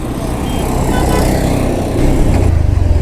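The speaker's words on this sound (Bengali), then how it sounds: "এই যে বাইকের যে সাউন্ড সাউন্ডটাই চেঞ্জ হয়ে যায়" A motorcycle engine runs with a low rumbling drone, growing louder and throatier near the end as it revs.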